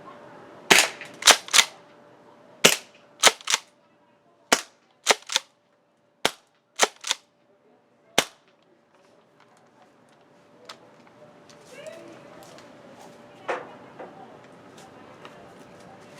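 Jag Arms Scattergun gas-powered airsoft shotgun fired at a target about 25 feet away at close range: about a dozen sharp, loud cracks, spaced irregularly and sometimes in quick pairs, followed by quieter handling clicks and a faint rustle.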